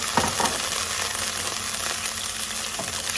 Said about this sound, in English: So this is when I'll add, I don't know, 1/4 cup of this wine.